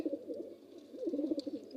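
Pigeons coo softly in a home loft, a low throaty burbling that rises and falls in a rolling rhythm, faint and close, with no voices over it.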